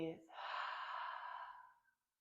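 A long, steady exhale during a power yoga workout, breathy and close, fading out after about two seconds into silence.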